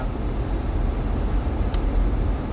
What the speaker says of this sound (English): you can hear the muffler running in the background